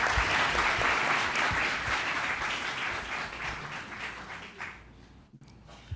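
A studio audience applauds to open a Saturday talk show, a dense, sustained roar of clapping that gradually thins and fades out toward the end.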